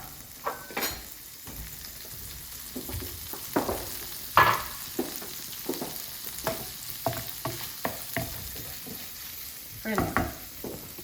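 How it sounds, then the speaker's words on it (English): Pancetta sizzles in oil and butter, a constant frying hiss punctuated by repeated scraping stirs and clinks of a utensil against the pan. "can hear that sizzling away"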